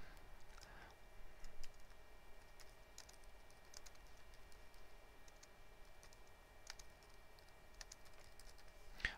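Faint keystrokes on a computer keyboard while writing into a text note in mind-mapping software, scattered soft clicks spread through a quiet room with steady background hiss.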